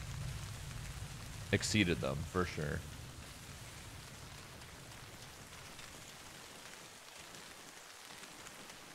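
Steady rain in the military shooter game Arma Reforger, a soft continuous hiss running throughout, with someone talking briefly over it near the start.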